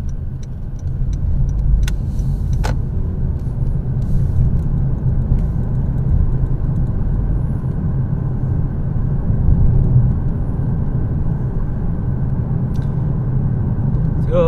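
A car drives along a city street in Surrey, British Columbia, with a steady low road and engine rumble from inside the vehicle that stays constant throughout, plus a few faint clicks and ticks.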